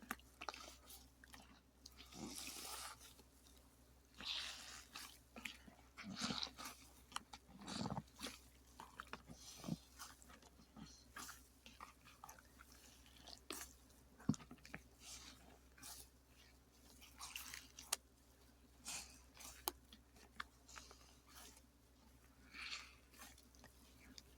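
Wet makeup sponges squelch as soapy water is squeezed out of them, soft close squishing and dripping in irregular bursts, quiet and intimate throughout.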